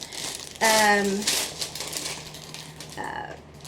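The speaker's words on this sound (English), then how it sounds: "And then more crinkling" Plastic packaging from a bag of discounted yarn crinkles in two short rustling bursts, a longer one early and a briefer one near the end, with a voice sounding alongside.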